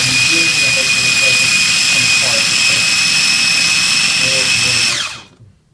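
A food processor's mixer attachment runs continuously with a loud, high-pitched motor whine and whirring chop for about five seconds, then cuts off and spins down into silence.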